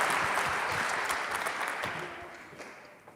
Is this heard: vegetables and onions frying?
no